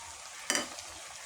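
A spoon stirs vegetable curry with lentils in a pan, one brief scraping swish amid a soft steady sizzle of frying.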